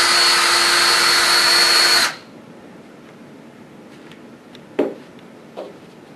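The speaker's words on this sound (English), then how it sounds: "When you reach the cut, reverse your drill," A power drill whirs loudly and steadily for about two seconds while unwinding the armor off Hybriflex cable, then stops abruptly, followed by a couple of faint clicks and handling sounds.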